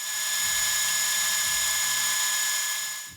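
Metal lathe turning down a 4140 chromoly shank, a loud steady high-pitched whine with a low humming drone beneath that holds throughout and drops off at the end.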